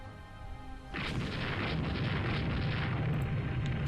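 Naval battle in the warship video game Rule the Waves 2 during a night action, a sudden heavy boom that rolls straight into a sustained, loud rumble.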